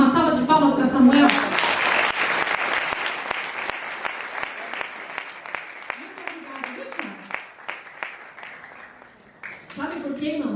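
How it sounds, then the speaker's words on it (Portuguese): Applause from a church congregation during a Portuguese-language worship service, a dense wash of many hands clapping that swells early and then gradually thins out, with a voice returning near the end. "Vamos dar uma salva de palmas para Samuel?"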